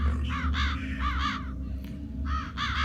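Crows caw repeatedly in a video game, loud, harsh calls in bursts of two or three over a steady low background rumble, with no talking.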